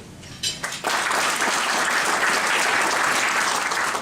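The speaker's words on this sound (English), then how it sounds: "You guys are doing really good clapping" An audience at an economic outlook event applauds sponsors. A short burst of a few claps swells quickly into full, dense, continuous clapping that stays loud and steady, with no voices over it.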